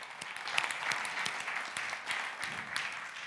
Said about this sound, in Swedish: Vi ska en applåd för det.